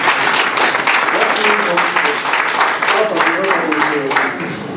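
Audience applause at a convention signing ceremony in Côte d'Ivoire, sustained and dense across the whole stretch, with voices mixed in underneath.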